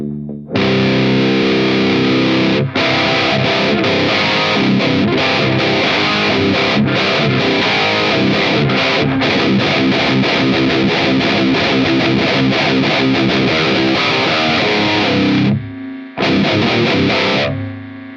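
A heavily distorted electric guitar through a Nux Solid Studio with its warmth boost on plays loud, thick chords with a warm, saturated tone, sustained almost continuously before a brief gap and a final burst.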